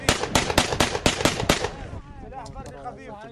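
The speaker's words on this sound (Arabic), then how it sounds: "سلاح خفيف." Light weapons gunfire during clashes around Tabqa military airport, heard as about seven loud, rapid shots in close succession, then voices shouting as the firing stops.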